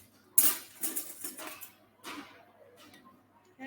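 A spoon clinks and scrapes in a pot as seasoning is stirred into soup, a few close, light metallic taps and scrapes with quiet gaps between.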